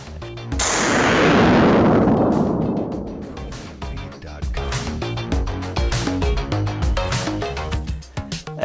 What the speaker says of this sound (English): Next up is the Smith & Wesson Performance Center 44 Magnum Hunter.